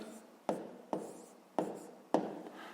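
A pen writes numbers on paper for a fifth-grade math exercise, making four short scratchy strokes close up, each with a sharp onset that quickly fades.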